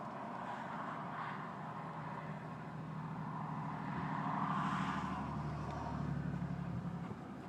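A car overtakes during a July chase, a steady road and engine rumble swelling slightly as it passes, heard from inside a moving vehicle at moderate distance.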